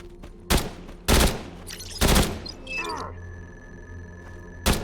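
Video game gunfire in a classic fixed-camera survival horror game, several loud, sharp bursts spaced irregularly, with electronic tones and a short trailing rumble between shots.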